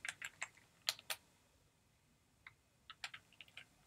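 Quick, quiet keystrokes on a computer keyboard while playing the text adventure game Wizard and the Princess, falling in two scattered bursts with a pause between, alone.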